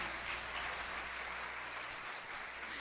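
A church congregation claps steadily through a Sunday service, the sustained applause filling the room at a moderate level with no break.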